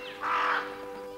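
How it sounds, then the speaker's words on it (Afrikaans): A raven gives one harsh caw from a middle distance, rising and fading within about half a second, set against a faint steady hum. "Dit was nie arend nie, 'n raaf."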